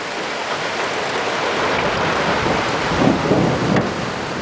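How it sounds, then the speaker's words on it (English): A thunderstorm with heavy rain outdoors in Fukuoka, Japan: a steady, loud roar of downpour fills the scene, and a deep rumble of thunder swells briefly around the three-second mark, with no voices. "Oh man, that's so much lightning."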